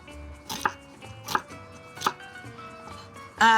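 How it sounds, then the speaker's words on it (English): A knife chops an onion on a cutting board in three distinct, evenly spaced thuds, and a louder knock comes at the very end. The surroundings are otherwise quiet and nobody speaks. "So I'm gonna chop a little bit of onion."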